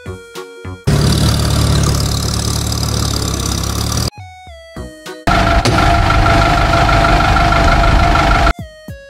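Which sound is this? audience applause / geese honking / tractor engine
tractor engine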